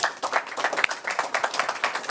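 A crowd claps continuously at a lively, uneven pace, the applause sustained and fairly close for the whole stretch.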